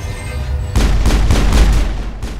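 A thrown grenade explodes in Mass Effect with a heavy boom, followed by a string of rumbling blasts and gunfire-like bursts over a low background hum.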